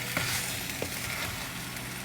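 Pepper chicken masala sizzles in a pan as it is stirred, a steady dense frying hiss with small scraping clicks from the spoon, close and continuous with no talk.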